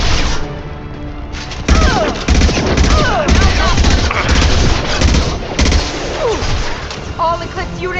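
Sustained gunfire and explosions from a firefight in the video game Mass Effect 2, with dense overlapping shots and booms continuing steadily throughout, and shouted voices mixed into the battle.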